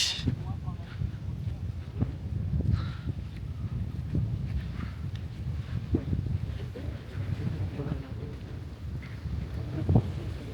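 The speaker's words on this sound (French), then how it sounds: "un peu de vent" Wind gusts buffet the microphone on a small islet in New Caledonia, a rumbling low roar rising and falling in bursts, with a voice talking over it at times.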